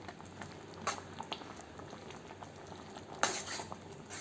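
Bottle gourd curry with ground peanut and garlic powder simmers in a pan, a soft steady bubbling with occasional clinks of a spoon or lid throughout.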